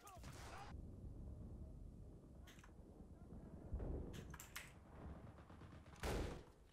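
Rifle gunfire in a World War II video game set during the defence of Berlin, several sharp separate shots spread over a few seconds against a noisy battle background.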